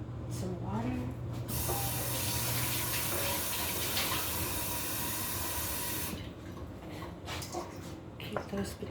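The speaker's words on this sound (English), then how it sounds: "put some water." Tap water runs steadily into a casserole dish in a home kitchen while scalloped potatoes are cooked, a loud continuous hiss and splash that cuts off near the end, with someone talking over it.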